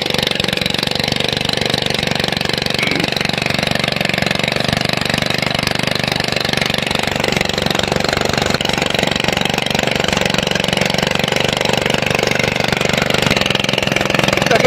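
An engine drives a water pump for deep-well drilling in Oriental Mindoro, running steadily at a mid-pitched chug with a constant knocking rhythm, close and loud throughout.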